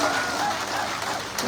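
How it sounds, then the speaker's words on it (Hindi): Dense applause and clapping from an audience at a live comedy or stage event, a brief continuous patter of many hands, fairly close, with a voice talking over it. "अरे ताली तो बजी है, ताली तो बजी है"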